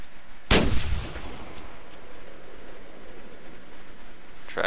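A single sharp rifle shot from a .22 Grasshopper cracks out in The Hunter hunting game, loud and close, its echo decaying over a second before faint background ambience returns.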